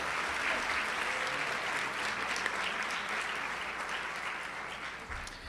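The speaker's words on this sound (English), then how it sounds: "Can we have another round of applause?" Sustained applause from an audience at a school board of education meeting, a dense steady wash of clapping that holds for several seconds and only begins to thin near the end, with no talking.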